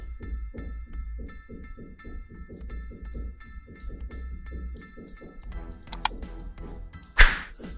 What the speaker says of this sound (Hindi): यहाँ पर हम खटखट कर रहे हैं इसके माइक में